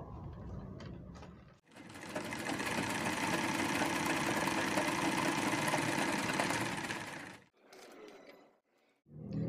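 A sewing machine runs a basic straight stitch through fabric in one steady, loud burst of about six seconds, with short quieter handling noises before and after and no talk.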